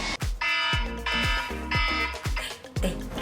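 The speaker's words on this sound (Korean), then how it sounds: "네, 알람입니다." An electronic alarm rings in loud, repeating bursts of tones, each burst starting on a sharp, thumping hit, close and with no talk.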